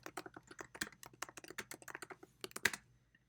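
Rapid, close, crisp keystrokes on a computer keyboard tap out a short burst of typing in an uneven rhythm, with no other sound around them.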